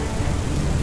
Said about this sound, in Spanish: No mames, está lloviendo durísimo.